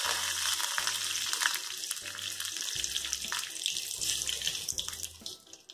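Curry leaves splutter and crackle in hot oil for sambar, a dense, hissing sizzle with sharp pops, partly under background music.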